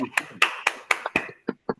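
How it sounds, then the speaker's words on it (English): About eight separate, sharp handclaps in a slow, uneven rhythm, close and fairly quiet, sounding like only one or two people clapping in a small room. "Please give them a big round of applause."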